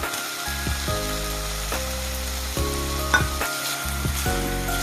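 Onions frying in a pan for Bengali-style egg kosha, with a steady close sizzle and occasional stirring scrapes throughout, no talking.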